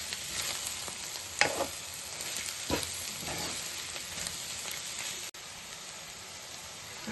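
Roasted peanuts stirred into an ivy gourd and coconut fry in a pan, a continuous close sizzle with scraping stir strokes and a few sharper clicks, no voices.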